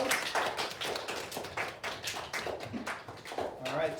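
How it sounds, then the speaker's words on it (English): Steady applause from a small group at a school spelling bee, a patter of claps continuing for several seconds at close range. "Definitely a round of applause."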